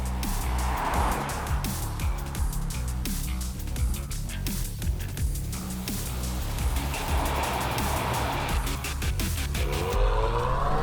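A 2021 Acura TLX Type-S sport sedan accelerates, its engine revving up through the gears with a steady roar heard from inside the car.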